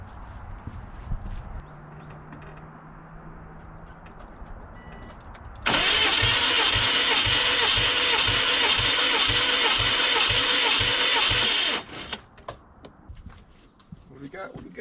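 A 2002 Subaru WRX engine cranks over on the starter during a cylinder compression test, giving a loud, steady rhythmic whirring pulse lasting about six seconds between quieter stretches of faint garage noise.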